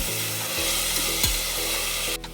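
Onion and peanuts fry in oil for Maharashtrian masale bhat, giving a steady close sizzle with a few scraping stir strokes and a short clink near the end; no one speaks.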